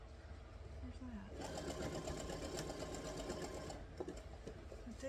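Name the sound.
sewing machine quilting a wave pattern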